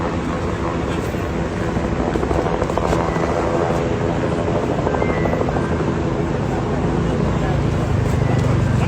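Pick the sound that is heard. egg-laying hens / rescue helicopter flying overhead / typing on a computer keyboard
rescue helicopter flying overhead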